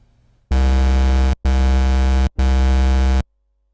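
A Sylenth1 synthesizer holds a dense, bright sustained tone with an LFO sweeping its filter cutoff, played as three loud back-to-back notes of about a second each with short gaps, and no voice over it.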